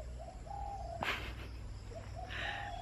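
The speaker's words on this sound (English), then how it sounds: "Are you looking at the birds?" Pigeons or doves coo softly in repeated low calls, with a brief brighter chirp from other birds, set against a steady outdoor background hum while on family travel in Thailand.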